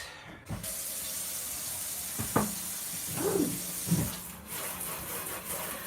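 Sausage casing is rinsed under running tap water at a kitchen sink, with a steady flowing stream and a few splashy bursts, close and moderately loud, without talking.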